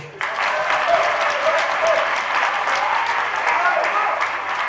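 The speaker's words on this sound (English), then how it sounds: "Clap for him." Audience clapping at a political tour event in a constituency meeting, dense steady applause starting abruptly and continuing throughout, fairly loud and close.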